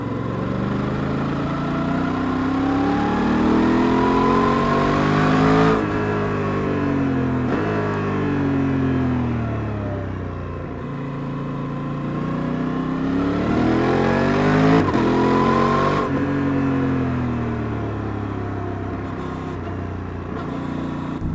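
A Honda Transalp XL750 motorcycle engine revs through rising and falling pitch sweeps, accelerating and easing off in repeated runs, loud and continuous with no talking.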